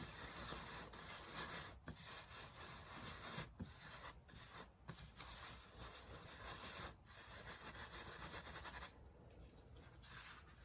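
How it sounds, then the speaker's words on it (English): Wood ash being rubbed by hand through a screen, heard as a continuous, faint, gritty hissing rasp with brief pauses, steady throughout. "I do kind of rub it around a little bit. And that does kind of help work it through the screen a little bit"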